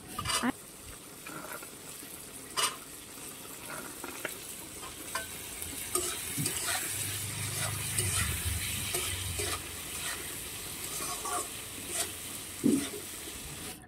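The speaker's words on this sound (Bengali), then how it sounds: "একটু নাড়িয়ে চাড়িয়ে দিব ছোলা" Chickpeas are stirred in a frying pan with turmeric, a soft sizzle under scattered scrapes and clinks of a utensil against the pan, fairly quiet and near.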